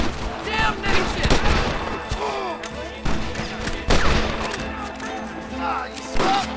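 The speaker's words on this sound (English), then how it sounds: "Covering fire! Give it up!" Gunfire from a Western shootout in Red Dead Redemption, with bursts of shots crackling and thudding steadily through the clip, mixed with game music and voices shouting over the fight.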